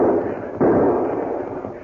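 A volley of gunshots in a western film, rapid overlapping cracks blending into a loud sustained rumble with a sharp burst partway through, with no talk.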